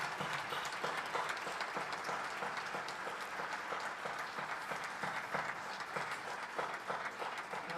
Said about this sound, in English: So I want a round of applause for the whole team.